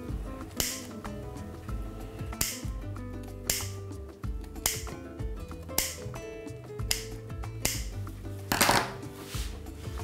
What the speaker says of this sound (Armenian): Մկրատով կտրում ենք անմիջապես